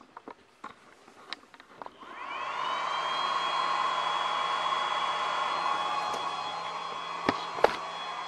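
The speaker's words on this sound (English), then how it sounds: "discharging batteries when you haven't been able to use all your packs" FPV drone battery packs discharging on a charger: a steady whirring fan-like hum with a high whine starts about two seconds in and runs on evenly, preceded and interrupted by a few small clicks and handling knocks.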